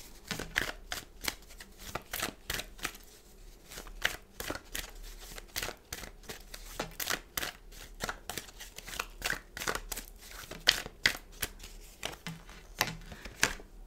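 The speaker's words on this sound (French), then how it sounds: "Je récupère mes cartes au compte-gouttes." Tarot cards shuffled continuously, with a steady run of crisp, close slaps and flicks as cards drop one by one, heard on their own without talk.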